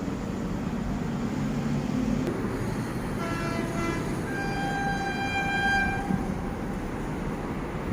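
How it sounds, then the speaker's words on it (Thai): A train arriving at a station by the Chulalongkorn Bridge rumbles steadily while its horn sounds in a few sustained blasts partway through. "อีกสักครู่จะมีขบวนรถเข้ามาจอดนะครับ"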